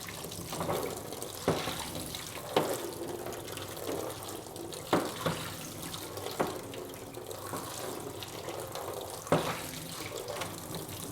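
Running water rinses a platinum print in a rinse tray during darkroom processing, a steady splashing wash with a few louder sloshes as the print is moved, close and alone.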